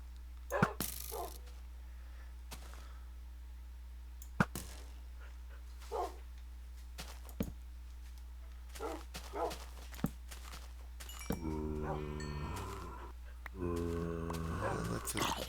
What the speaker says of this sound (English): Let the doggies take care of that guy.